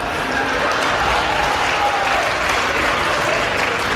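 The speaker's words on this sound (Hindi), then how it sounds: "इस पे कई लोगों ने छोटी छोटी तालियां बजाई" Light applause from an audience at a Hindi comedy show, steady clapping spread across the crowd that continues evenly for the whole stretch without any voices over it.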